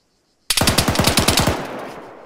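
Rapid burst of automatic gunfire in the military shooter Arma's KP Liberation mode on Altis, about a dozen loud, evenly spaced shots over a second, then a ringing tail fading out.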